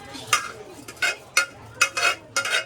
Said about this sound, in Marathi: आणि मग त्याला मी ढवळणार